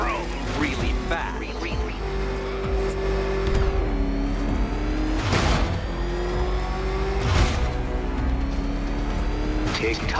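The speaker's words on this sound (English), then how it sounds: "There's more to this test than just going vroom, vroom really fast." Batmobile engine in Batman: Arkham Knight revving and roaring steadily, with loud surges around the fifth and seventh seconds, a rumbling motor under game voices.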